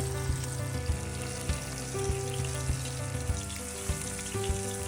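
Crucian carp sizzles steadily in hot oil in a pan, a constant crackling hiss punctuated by a few soft thumps, close by with no voices.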